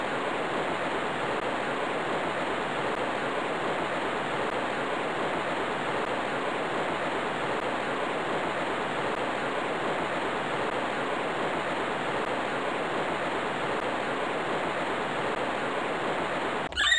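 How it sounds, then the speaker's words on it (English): Steady rushing water of a flooding river in the Spelling Jungle video game, a dense, unbroken roar that holds at an even level throughout. "The river is flooding and our home is in danger."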